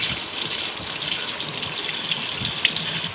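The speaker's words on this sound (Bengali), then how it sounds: "ভালো করে ধুয়ে নিচ্ছি, এখন তরকারিতে দিয়ে দেব।" Mushrooms are washed under a running kitchen tap: a steady, close gush of water splashing for a few seconds with no speech.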